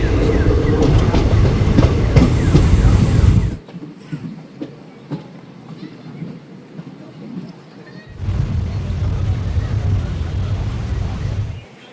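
Bhagirathi Express train at Kashim Bazar station, loud rumbling and clattering of the rolling carriages, dropping to a quieter hum with faint sounds for several seconds before the loud running noise returns.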